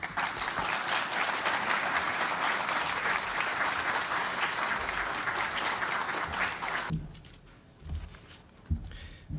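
An audience applauds after Dr. Terence Campbell's presentation on parental alienation, with dense, sustained clapping for about seven seconds that then drops away to near quiet.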